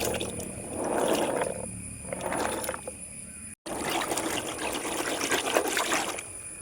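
Roughly half a kilogram of raw green cashew nuts is washed in water, heard as close splashing and trickling that swells and fades in waves, with a brief cut partway through and no talking.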